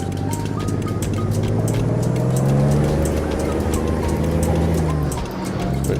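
A heavy truck in American Truck Simulator pulling away from a yard with its trailer brake released, the engine droning steadily and rising in pitch as it gathers speed, loud and continuous with no one talking.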